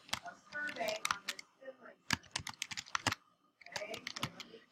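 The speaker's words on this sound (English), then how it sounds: "Now I can get started typing." Computer keyboard typing while formatting a paper in Microsoft Word, with bursts of quick, crisp key clicks separated by short pauses. A person speaks over and between the keystrokes.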